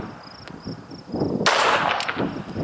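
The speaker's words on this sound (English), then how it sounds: "I'm just going to press 3 slow rounds and we'll see how we do" Three slow shots from an S&W Bodyguard .380 pistol ring out at an outdoor range as brief, sharp cracks, the middle one strongest, over a steady chirping of insects.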